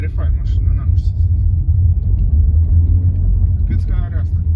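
A 2.0 TDI diesel VW Golf Mk8 from 2023 or 2024 is driven with a heavy, continuous low rumble of road and engine noise inside the cabin, while people talk over it.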